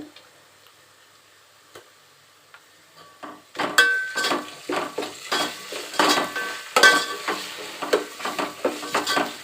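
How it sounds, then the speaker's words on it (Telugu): Ginger garlic paste frying in ghee in a pan for biryani: a quiet start gives way to repeated stirring scrapes and clinks over a soft sizzle, in an irregular rhythm, close and moderately loud. "అల్లం వెల్లుల్లి పేస్ట్ పచ్చివాసన పోయే వరకు వేయించుకోండి"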